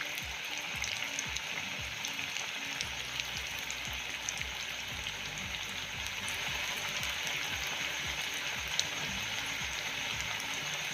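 Khari pastry deep-frying in oil on a low flame, a steady, close bubbling sizzle with soft crackles like light rain, continuing evenly without voices.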